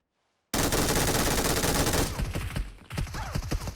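Gunfire in the mobile game PUBG Mobile, a loud, close burst of rapid automatic shots that starts abruptly and runs for a few seconds before breaking into scattered, slightly quieter rounds.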